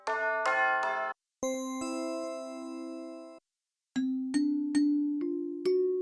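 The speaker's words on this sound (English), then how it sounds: "So I'm going to use a bell sound this time, then just hit search." Bell-tone synth melody played in FL Studio: bright struck notes ringing with long decays, a chord-like opening then a series of single notes, clear and close with no talk.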